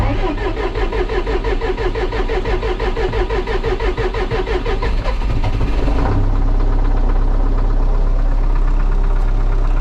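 An MTZ-80 tractor diesel engine cranks with a rapid, loud, rhythmic churning for about five seconds, then catches and settles into a steady, deep, close idle rumble.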